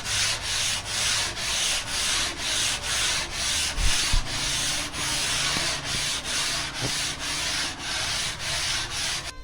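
Steady abrasive rubbing of sandpaper over a foam surfboard blank during shaping of a 7ft egg board, continuous and close with regular rhythmic strokes and no talking.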